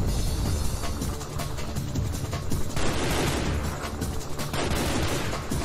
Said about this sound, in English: That is some bombing going on.